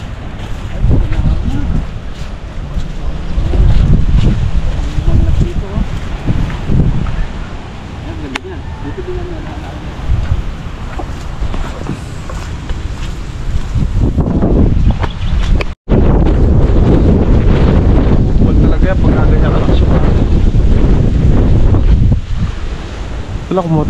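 Loud, gusty super typhoon wind roaring and buffeting the microphone continuously, with voices talking underneath and a brief dropout partway through.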